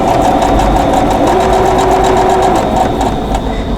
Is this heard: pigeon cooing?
no